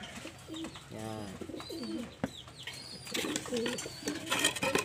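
Racing pigeons cooing close by, several soft rolling coos in a row with bird chatter and faint background noise.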